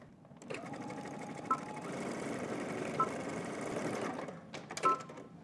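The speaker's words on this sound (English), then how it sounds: "we're just going to go back and forth with some zigzag stitches" A sewing machine runs steadily, zigzag stitching back and forth over overlapped 1-inch elastic for a skirt waistband, a continuous mechanical whir with a few brief clicks, close and alone without talk.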